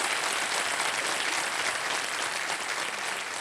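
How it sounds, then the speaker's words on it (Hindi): Studio audience applause on a televised quiz show set, a dense, steady wash of clapping that stays loud and even throughout, with no voices standing out. "एक बार फिर तालियों के साथ इनका अभिनंदन और स्वागत।"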